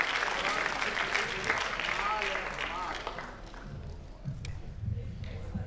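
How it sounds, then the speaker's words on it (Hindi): Audience applause at a Hindi-Urdu poetry gathering (kavi sammelan) as a poet is called to the mic, a dense wash of clapping filling the first few seconds before fading into crowd murmur and talk. "एक बार जोरदार तालियां माहौल दीजिए लता हया जी के लिए।"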